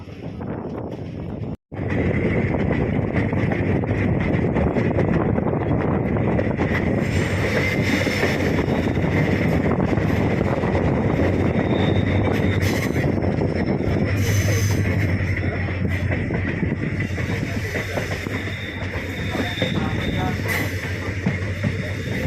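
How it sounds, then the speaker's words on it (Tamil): A passenger train on the Coimbatore to Tenkasi line rolls steadily, heard from on board as a loud continuous rumble and rattle with scattered squeals and clanks that lasts throughout after a brief dropout near the start. "இரயில் பாம்பு போல் வளைந்தும் நெளிந்தும் குலுங்கியும் சென்றது"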